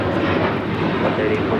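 An American Airlines Boeing 737-800 roars on takeoff at LAX, a loud steady broadband engine rumble throughout.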